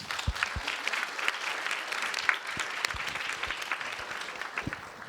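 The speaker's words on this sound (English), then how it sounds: "round of applause for Omar" Audience applause at a panel discussion after a Barbican show, a soft and fairly distant patter of many hands clapping steadily throughout.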